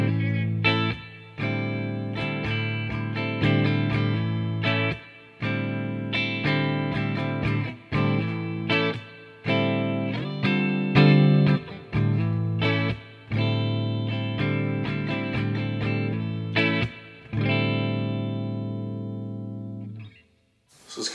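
An Epiphone V electric guitar with a clean tone and Holy Grail Nano reverb plays a sequence of sustained notes and chords with a reverb tail, each phrase pausing briefly before the next.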